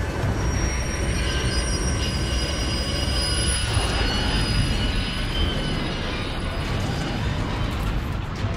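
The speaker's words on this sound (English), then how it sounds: "As the runaway BNSF train came into the yard" Runaway BNSF freight manifest train rolling into a rail yard in Saint Paul, Minnesota, a steady loud rumble of heavy wheels with high metallic squealing running the whole way, constant and close with no talk.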